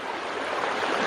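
Creek water runs steadily at Lick Creek along a hiking trail, a continuous broad rushing wash close by with no break across the whole moment.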